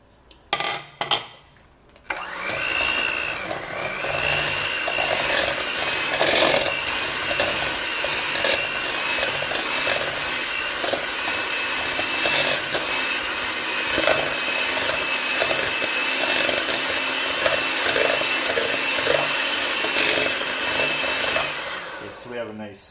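An electric mixer whirs steadily as it beats cream cheese smooth for a Japanese cheesecake, a loud continuous motor drone with a bowl clatter at the start.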